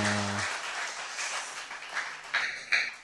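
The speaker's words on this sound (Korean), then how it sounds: "박수!" Brief applause breaks out in a hall, a soft spread of clapping that thins out, with a few sharper nearby claps and a short electronic tone near the end.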